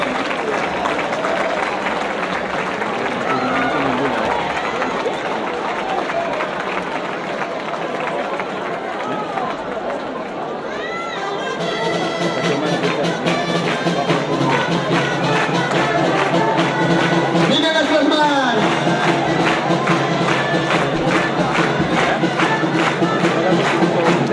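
Crowd at the 30th giants' gathering (trobada de gegants) in Calella cheers and claps loudly for the Sant Pol de Mar group and their giant, a dense sustained wash of applause and voices mixed with music.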